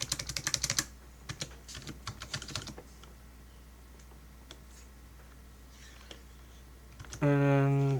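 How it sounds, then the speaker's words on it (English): Quick bursts of computer keyboard typing, close and light, fade into a quiet pause, and a short tonal sound comes in near the end. "I'm just typing"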